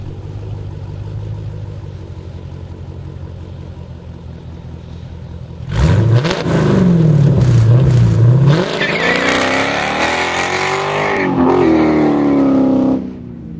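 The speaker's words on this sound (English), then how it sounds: "I revved the car up and I did all kinds of crazy stuff" A car engine idles quietly, then revs hard with a rising, falling roar, climbs again through repeated loud revs, and drops back, close and alone without talk.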